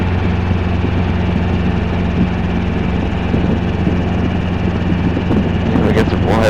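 Robinson R22 helicopter heard from inside the cockpit during a training flight, with a loud steady rotor and engine drone and a constant low hum throughout, and a voice briefly over the noise toward the end.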